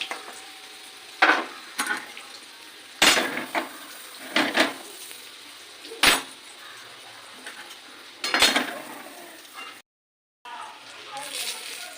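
Potato and tomato cutlets frying in hot oil, a steady low sizzle broken by sharp clinks and scrapes of a utensil against the pan, with a voice talking over it at times.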